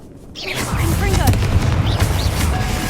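A Confringo blasting spell in Hogwarts Legacy lands as a loud, booming explosion that rises quickly and then rumbles on at a steady roar. A voice speaks over part of the blast.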